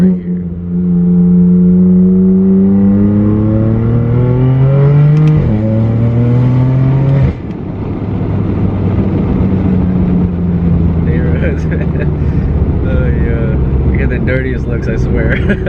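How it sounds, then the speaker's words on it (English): A BMW F80 M3 fitted with an aftermarket muffler and front mount intakes revs hard from inside the car, its exhaust climbing in pitch in loud pulls before dropping and settling into a rumbling cruise. "Life is good when you're driving an F80 with all these mods on it and it sounds this great."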